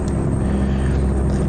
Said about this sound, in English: Oh, listen to that engine brake.